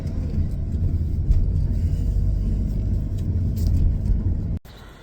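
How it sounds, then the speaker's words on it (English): Continuous road traffic on a long road, a loud, steady low rumble of cars passing close by with slight swells as vehicles go past, ending in a sudden drop to a quieter background. "Wow, there's a lot of traffic here."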